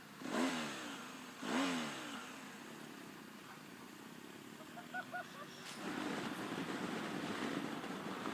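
A BMW R1250GS motorcycle being ridden hums with a steady engine drone under wind rush, with two brief revving swells early on and a rougher, louder surge toward the end.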